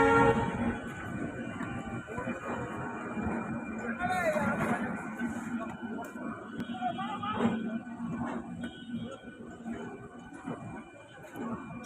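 A local train at Howrah station rumbles and clatters along the platform, with wheel and carriage noise, squealing metallic tones and a brief horn-like blast, under a steady hubbub of crowd chatter.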